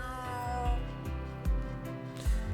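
A cat meows in the video game Trails through Daybreak 2. Three or four short, close meows come in a loose rhythm over a soft background of game music.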